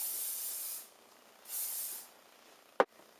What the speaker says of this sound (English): So just spray that all.